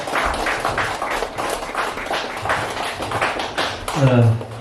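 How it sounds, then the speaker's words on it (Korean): A small lecture audience at a talent-sharing concert claps to welcome Professor Choi Hyun-kyu. The claps are steady and close, and a voice rises briefly near the end. "최현규 교수님께 다시 한번 큰 박수로 환영해 주시기를 부탁을 드리겠습니다"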